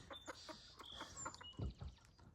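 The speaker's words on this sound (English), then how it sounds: "Now I got chickens scattered everywhere." Loose chickens on a farm cluck quietly and sporadically at a moderate distance, with scattered soft calls and chirps amid low farmyard noise.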